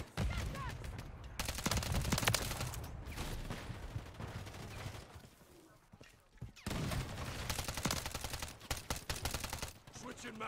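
Bursts of automatic gunfire and explosive hits in Call of Duty Modern Warfare 3 multiplayer, loud dense volleys with a quieter lull midway before the shooting resumes.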